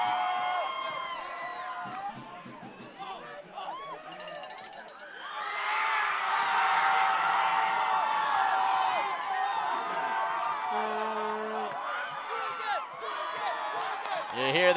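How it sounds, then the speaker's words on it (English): High school football crowd cheering and shouting at a Blair Academy vs. Peddie School game, swelling loud and sustained from mid-clip as a gorilla mascot enters, with commentary voices running throughout. "You hear the cheers there"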